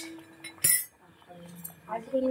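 A spoon falls and hits a hard surface with one sharp, bright clink, close by, while a person talks softly before and after it.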